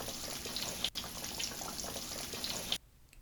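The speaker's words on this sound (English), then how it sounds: "listen to that sizzle as I place my green tomatoes in." Steady broadband hiss and crackle of green tomatoes sizzling in hot oil, close and continuous, then abruptly cutting off near the end.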